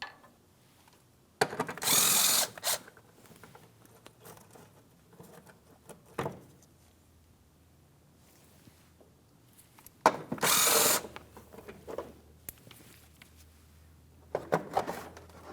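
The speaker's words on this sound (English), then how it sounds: "Let's remove each of those 2 bolts next." Power tool bursts removing 10mm mounting bolts on a 2003-2008 Toyota Matrix during power steering pump work: two loud whirring runs about eight seconds apart, each a couple of seconds long, with a shorter burst at the end and quiet clinks between.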